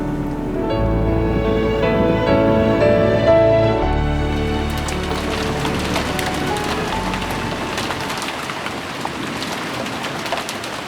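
Spring rain falls steadily in April, a dense continuous patter of drops on surfaces with no speech, staying fairly loud and even across the whole stretch.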